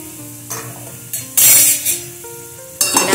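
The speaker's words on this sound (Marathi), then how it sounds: "तर मी गाजराचे तुकडे घालून घेते" Carrot pieces stirred in ghee in a pot for carrot halwa, with several loud scraping bursts from a spoon against metal, a gentle sizzle, and low ringing tones between the strokes.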